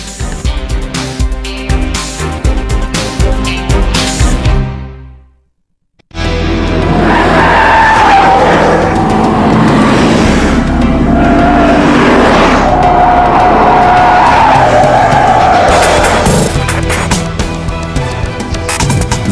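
Michelin car tires skid hard on a test track during a braking test from 31 km/h to a stop, giving a loud, sustained screech that cuts out briefly before a second long squeal.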